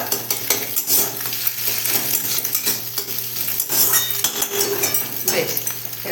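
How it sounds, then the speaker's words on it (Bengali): Steady sizzling of eggs frying in hot oil, with metal utensils clinking and scraping against a pan throughout. "তেল গরম হয়ে গেছে এবার ডিম দুটো দিয়ে নেব"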